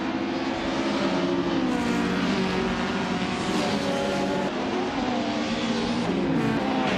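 Engines of racing cars in a video game race at Circuito International de Villarreal d'Or, one a 1994 Opel Astra GSi, droning loud and steady at high revs, with pitch rising and falling as the cars accelerate and shift.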